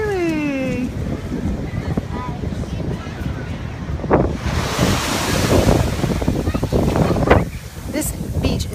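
Ocean surf rolls in at Juno Beach, Florida, with strong wind buffeting the microphone. A continuous wash of breaking waves runs beneath gusty rumble, and a person speaks briefly near the start.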